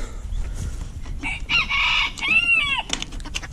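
A rooster crows loudly and close by, giving one long drawn-out call after shorter clucking bursts, with other fowl clucking around it in a farmyard setting.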